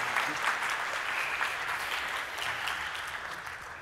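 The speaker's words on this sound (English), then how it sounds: "if we could have a quick round of applause for everyone who organized everything" An audience applauds at a game developers' conference talk, steady, dense clapping filling the room for the whole stretch without any voices.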